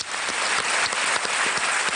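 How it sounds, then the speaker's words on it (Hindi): A studio audience on a quiz show claps in a dense, steady round of applause that fills the space and stays loud and even throughout, with no voices over it. "एक बार फिर डॉक्टर साहब के लिए तालियां"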